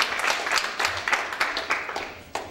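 A church congregation at a gospel ministry service claps and applauds, a dense run of overlapping hand claps that carries on steadily throughout at a moderate distance.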